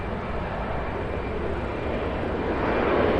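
A three-year-old Delta Airbus A220-100 arriving from Boston lands at CVG in Cincinnati, a loud, continuous engine rumble that holds steady and builds a little as it nears.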